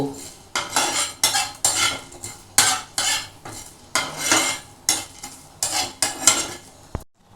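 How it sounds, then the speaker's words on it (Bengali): Spices are dry roasted in a pan, with about a dozen rhythmic rasping scrapes of a utensil across the dry metal surface, close and loud with no sizzle or talk. "এটাকে একটু আমি ড্রাই রোস্ট করবো, খুব বেশি করবো না, জাস্ট অল্প।"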